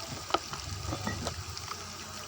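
Goat brain masala with garlic and ginger frying in a pan, a soft steady sizzle with light stirring scrapes and a small clink near the start, close and fairly quiet, no voices.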